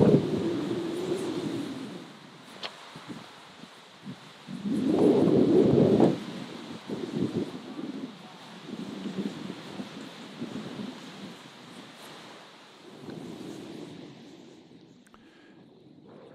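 Irregular gusts of wind buffet the microphone outdoors at a croquet match in Tulsa, Oklahoma, with low rumbling bursts rising and falling over a faint steady hiss, no voices.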